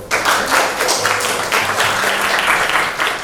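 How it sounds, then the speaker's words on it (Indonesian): Students in a classroom give a short burst of lively, close applause, dense clapping that holds steady with slight swells and no talk. "Oke, tepuk tangan dulu."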